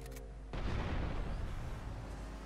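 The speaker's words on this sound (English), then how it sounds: "What was the need of the explosions?" A heavy boom erupts suddenly and rolls on as a loud, dense rumble, an explosion in the video game GTA Vice City with music fading under it.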